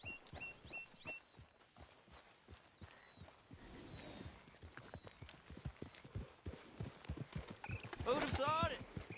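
A horse's hooves clip-clop at a walking pace in the video game Red Dead Redemption 2, steady near hoofbeats with a brief whinny, ending under louder rustling and birdsong-like tones.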